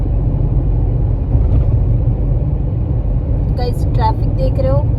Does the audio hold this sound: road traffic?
yes